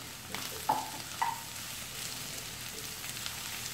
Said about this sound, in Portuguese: Mais ou menos uns 10 minutos fritando a linguiça e o bacon.